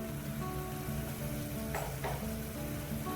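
Asafoetida and spices are stirred in hot oil, giving a faint, steady sizzle with two quick spoon scrapes partway through, against a constant low background hum.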